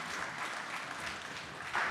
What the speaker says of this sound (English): A big round of applause to Sister.